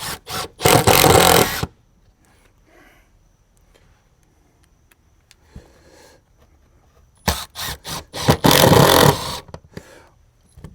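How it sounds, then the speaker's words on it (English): A power drill drives screws into faux exterior siding panels in two loud, close bursts of whirring with short stops, separated by a quiet stretch of faint handling noise. "You want to slightly recess the heads of these screws, but you don't want to over tighten them."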